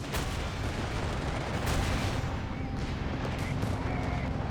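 Units trade fire in a Company of Heroes 3 2v2 battle on the Pachino Stalemate map, a thick continuous wall of gunfire and heavy booming shots with no pause.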